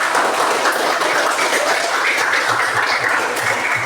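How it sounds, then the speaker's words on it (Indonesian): Fifth-grade schoolchildren in a classroom applaud, their clapping forming a dense, steady, fairly loud patter that fills the room without pause for a few seconds, with no voices standing out. "tepuk tangan dulu dong"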